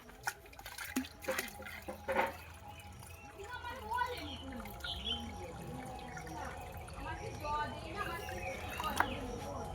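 Water poured into a lotus plant tub, soft splashing and trickling with drips, quiet and close, while a person talks over it.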